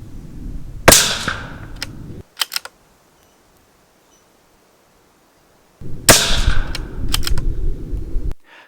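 A CZ 457 MTR rifle chambered in .17 HMR fires two sharp, close shots several seconds apart, with a clatter of mechanical clicks and handling noise around each shot and near-silence between.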